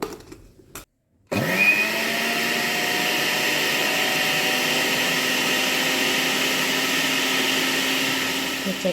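An electric hand beater whips instant coffee into a fluffy foam, starting after a brief pause and then running as a steady, loud motor whir with a high whine, close and continuous.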